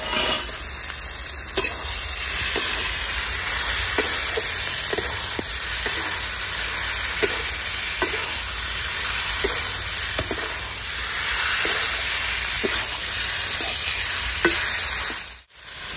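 Chicken meat sizzling in a pan, a steady close hiss of frying with regular light clicks of stirring throughout, no speech, cutting off briefly near the end.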